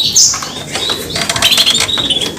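Canary kept by a breeder, fluttering and chirping close by, with bright high tweets, quick wing flaps and rustling over a couple of seconds; no talk.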